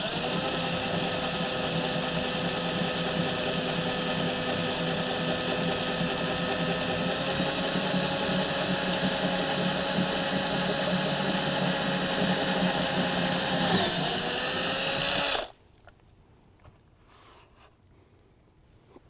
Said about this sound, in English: we're going to drill those out to 1/4 inch